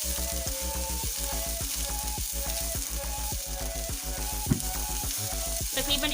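Chicken and cabbage filling fries in a pan with a continuous close sizzle and crackle, over a steady tonal backing that sounds like music.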